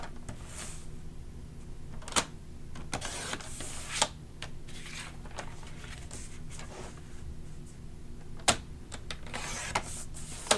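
Paper strips being cut from a paper pad with a trimmer or cutter, a series of sharp, isolated snips and slides spaced irregularly, fairly close and quiet, with no talking.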